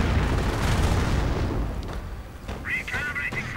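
Artillery shells and rockets exploding in a real-time strategy war game, a dense rumbling barrage of booms fading out, with a voice talking over the later part.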